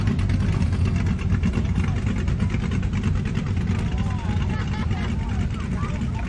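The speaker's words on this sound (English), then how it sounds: "there's another 57 Chevy." A 1957 Chevy rumbles at a steady idle during a street parade in Long Beach, a loud continuous low engine drone close by, with someone talking over it.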